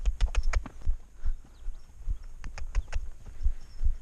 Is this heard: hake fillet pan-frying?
no